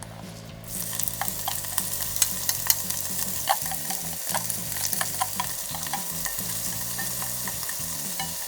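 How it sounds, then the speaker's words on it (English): Beef frying in a pan for niku udon gives a continuous close sizzle with scattered crackles and pops, running over a repeating low musical backing. "Fry everything together until the meat is browned"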